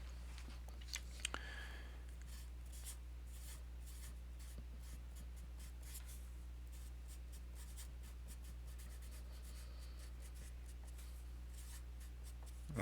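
Pen or marker writing by hand on paper or a board while working a statistics calculation, soft faint scratching strokes in short bursts over a constant low hum, with no talking.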